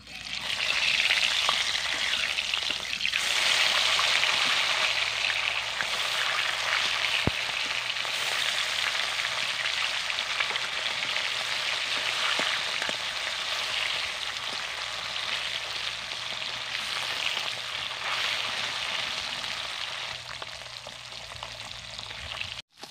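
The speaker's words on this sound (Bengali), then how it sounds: "বাকি মাছগুলোকেও ভেজে নেব।" Bata fish fry in hot oil in a pan, a steady close sizzle and crackle holding for the whole stretch, easing slightly toward the end, with no voices.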